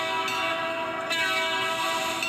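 A loud, sustained, multi-tone train horn blares up close from a passing locomotive that may be an RS3, holding steady with slight shifts in pitch.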